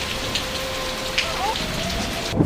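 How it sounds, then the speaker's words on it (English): Heavy rain pours down steadily in a dense, continuous hiss, with no voices and no letup. "The downpour showed no sign of ending."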